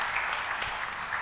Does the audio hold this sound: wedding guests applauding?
yes